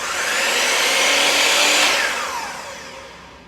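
A compound miter saw whines up to a loud, close motor roar as the blade cuts, then the pitch drops and fades as it spins down, with no talk.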